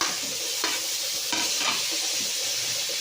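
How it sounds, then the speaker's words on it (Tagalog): Fish sizzles steadily in a hot frying pan, a constant close hiss and crackle with a few soft clinks of stirring or turning, no voices. "Ilagyan na natin yung ating isda."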